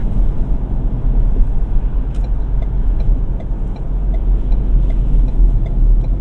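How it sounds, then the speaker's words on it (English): Inside a 2026 Ford Ranger 2.3L midsize pickup cruising at about 35 mph, a steady low road and engine rumble drones continuously, fairly loud and even with no speech. "As far as just cruising at like 35 miles per hour, as you can see, super quiet truck."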